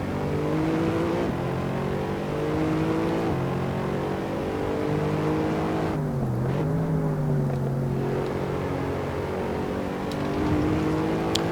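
A KTM X-Bow and Mercedes SLS race cars hum through a race in Assetto Corsa, engines droning steadily with pitch climbing through the gears, then dropping briefly and rising again, loud and continuous.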